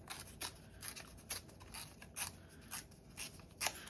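Paper is torn by hand while making a scrapbook pocket, with a series of short, evenly spaced rasping rips, soft and close, and no talking.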